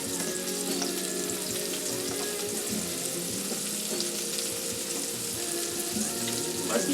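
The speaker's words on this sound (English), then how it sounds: "Just a couple of minutes with the fish in butter." Chunks of fish fry in butter in a pan, giving a steady, even sizzle that stays close and moderately loud throughout with no talking.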